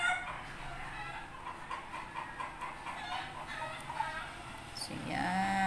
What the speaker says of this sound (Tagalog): Isensya na kayo sa mga manok maingay.